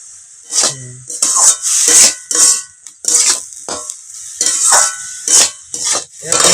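A utensil scrapes and stirs banana stem with turmeric powder in a frying pan for a Bengali thor ghonto, with rhythmic bursts of rubbing and clatter against the metal and a light sizzle beneath.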